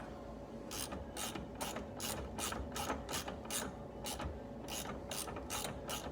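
A ratchet wrench clicks in quick repeated bursts while loosening penetrating-oiled bolts on the battery hold-down bar of a 2010 Chrysler Sebring, steady and close with no talking.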